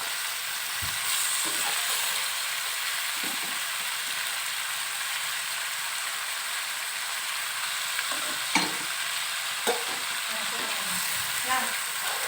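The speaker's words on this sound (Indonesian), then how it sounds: "Nah, kita masukkan airnya yang 2 liter." Steady sizzling and frying hiss from a pot as two liters of water go in for chicken soup, close and continuous, with faint stirring and scattered clinks and no speech.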